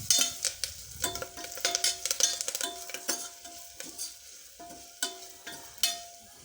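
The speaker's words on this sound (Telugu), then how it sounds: "ఉల్లిపాయ ముక్కలు ఇలా కలర్ చేంజ్ అయ్యాక కాసింత పసుపు, ధనియా పౌడర్ వేసి ఇంకాసేపు అలా వేయించుకోవాలి" Onions frying with turmeric and coriander powder, a spoon scraping and clinking against the pan in quick irregular strokes over a steady soft sizzle, close and clear with no voices.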